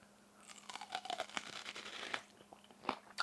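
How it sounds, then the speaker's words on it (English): Crisp, irregular crunches and bites from someone chewing a raw onion up close, with short snaps and tearing textures spread across a few seconds and no talking. "You know how I said I was tempted to eat that onion?"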